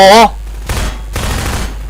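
Gunfire in the Half-Life 2: Episode 2 video game: a brief tonal sound gives way to two loud, broadband bursts of shots spaced about half a second apart, with no talking.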